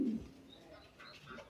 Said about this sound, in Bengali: এই যে আমার বোম্বাই কবুতরগুলা